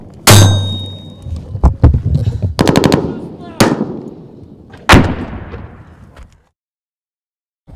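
Weapon fire in a modern combat setting, with loud sharp gunshot bursts and rapid clanging reports in several separate volleys, echoing and trailing off into silence, with shouted voices mixed in.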